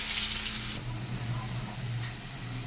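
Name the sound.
cut potatoes added to hot oil with tempered spices, sizzling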